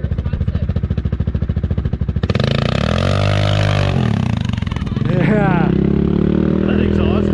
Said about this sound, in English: That exhaust is loud.